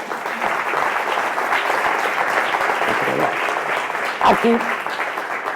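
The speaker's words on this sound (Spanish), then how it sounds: "Que permanezca y este fuerte aplauso." Audience at a forum talk on social innovation and public policy giving sustained applause: a full, even roar of clapping, with a brief voice rising over it near the end.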